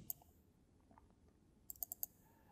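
Computer mouse clicks while working in an Excel spreadsheet, one click at the start and then a quick run of four faint, crisp clicks near the end, with quiet room tone in between.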